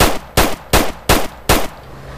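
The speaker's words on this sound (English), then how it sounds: "I'm about to shoot her now." Five loud, evenly spaced gunshots ring out in GTA San Andreas, each a sharp crack with a short tail, close and steady in rhythm with no talk.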